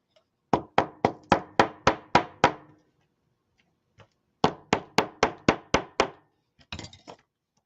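Hammer strikes on metal wire while shaping steampunk fairy wings: two quick bursts of about seven sharp, evenly spaced blows each, close and loud, separated by a brief pause, with a few lighter taps at the end.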